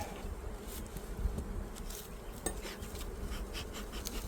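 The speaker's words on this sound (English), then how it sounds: "A lot of bees." A full-size honeybee hive colony hums with a dense, continuous buzz of many bees close by, with a few sharper buzzes and faint clinks over the steady drone.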